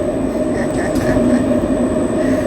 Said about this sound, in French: Je suis dans le RER.